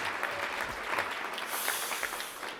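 Dense clapping from a large conference audience of teachers in a hall, a continuous even wash of applause throughout, fairly loud and without speech on top.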